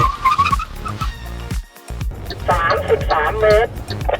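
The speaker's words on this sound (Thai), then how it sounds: "ระยะเบรกของ MG4 X Power ตัวนี้อยู่ที่ 33 เมตรเท่านั้นครับ" An MG4 XPower brakes hard from 100 km/h in an emergency stop, with a broadband tyre squeal and skid rising loudly near the end over engine and road noise, while someone talks throughout.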